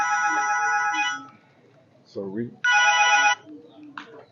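A mobile phone ringtone chimes loudly in two bursts at an indoor talk on grasscutter farming, broken by a brief spoken word between them.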